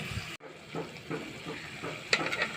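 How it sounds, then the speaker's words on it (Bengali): Spice paste is stirred into dried fish frying in a pan. A wet sizzle carries soft scraping stir strokes, a brief dropout near the start and a louder clatter toward the end. "মশলাটা দিয়ে দেবো নেড়ে দিয়ে ভালো করে"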